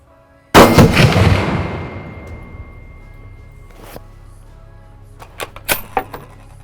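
A rifle shot sets off Tannerite packed against an 800-pound railroad tie, giving one sudden, very loud, close blast. A long rumbling decay follows, then a few fainter sharp knocks and rattles.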